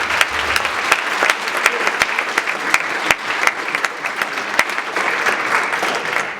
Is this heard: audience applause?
yes